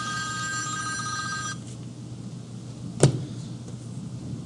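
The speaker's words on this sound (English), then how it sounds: "what did I say happens when your phone rings?" A telephone rings once in a presentation setting, a short sharp ring standing out briefly over a low background hum after a steady tone fades.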